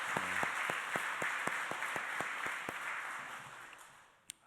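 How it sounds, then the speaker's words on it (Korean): A church congregation at a Sunday service gives a round of applause, a broad steady patter of many hands with a few sharper nearby claps in a regular beat, tapering off toward the end. "하나님께 영광의 박수 한번 같이 하시죠"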